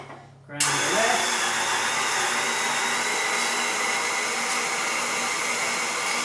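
A coffee grinder grinding freshly roasted coffee beans starts abruptly and keeps a loud, steady whirring hum close by, with no talk.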